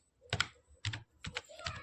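Soft, close typing on a computer keyboard, four short clusters of keystrokes at a steady pace, with no voice over them.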